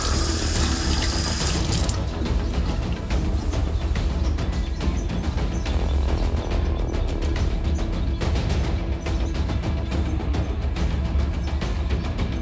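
Cold tap water pours steadily in a continuous broadband rush, loud and close, with a faint mechanical clicking beneath and no talking.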